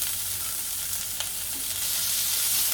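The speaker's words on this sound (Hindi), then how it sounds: "ये जो कैप्सिकम है इसको 1 मिनट तक फ्राई करिए ताकि उसका कच्चापन निकल जाए।" Chopped small capsicum frying in a pan for veg keema masala makes a continuous close hiss of sizzling oil, with a brief stir or clink partway through and no voices.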